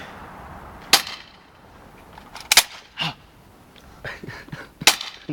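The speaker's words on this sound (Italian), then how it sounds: "Enzo, spara a botte però, non cogli la macchina mia." Several sharp, loud bangs pop at irregular intervals, echoing outdoors, with faint rustling and softer thuds between them.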